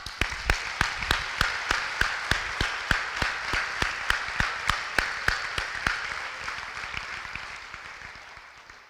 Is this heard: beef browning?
no